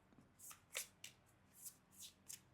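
Tarot cards are shuffled in a series of short riffling bursts, about seven in a loose rhythm, close and quiet with no talking.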